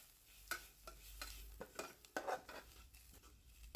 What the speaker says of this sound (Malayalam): ഇനി ഇതെല്ലാം കൂടി ഒന്ന് നല്ലപോലെ ഒന്ന് ഇളക്കി കൊടുക്കാം